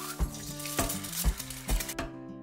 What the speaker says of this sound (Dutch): Ik kan ook eieren bakken.